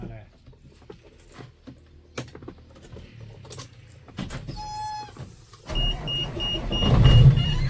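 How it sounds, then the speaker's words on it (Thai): Isuzu 6UZ1 engine fitted in an FM18 truck cranks and starts near the end, rising into a loud low rumble after clicks, key jangles and a warning chime; voices talk earlier. "เดี๋ยวขอติดเครื่องหน่อยนะพี่นะ"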